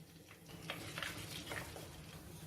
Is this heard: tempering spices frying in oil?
yes